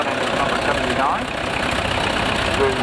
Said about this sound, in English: quite a rare tractor in the UK, an Alice Chalmers ED40